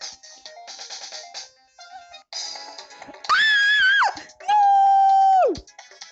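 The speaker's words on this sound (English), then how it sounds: "Samsung Ringtones, I love it." A Samsung phone plays MIDI ringtones: after a stretch of quieter busy electronic tones, two loud sustained synth phrases ring out, each holding a steady pitch before sliding down and cutting off.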